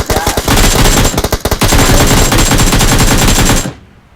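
Rapid automatic gunfire in a shooting video game, a loud continuous burst of shots lasting several seconds before cutting off abruptly, with no voices over it.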